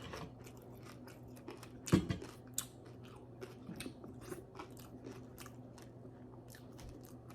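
Crispy fried pork belly is chewed close to the mic in a Filipino mukbang, with a loud crunching bite followed by a steady run of softer crackly chews.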